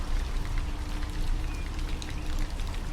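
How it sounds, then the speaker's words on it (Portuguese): Heavy rain falls steadily in a dense, even hiss with fine drops pattering on surfaces, continuous and moderately loud with no voices. "Eu acho que nunca choveu tão forte assim na minha vida."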